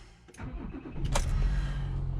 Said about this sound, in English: Nice big V6 engine,